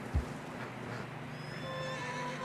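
A single horse neigh in the video game Red Dead Redemption 2 rises briefly at the start, then a steady low rumble and thin tonal hum continue without speech.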